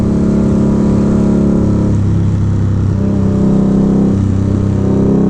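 A motorcycle engine drones steadily and loudly while riding on tight mountain roads in the Santa Cruz Mountains, with a constant hum and slight pitch shifts, and no talking.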